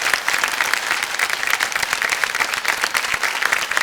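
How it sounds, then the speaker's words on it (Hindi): Studio audience on the KBC quiz show breaks into steady, bright applause for a winning contestant, a full and even wash of clapping with no talk over it. "तालियों के साथ आपका अभिनंदन करते हैं"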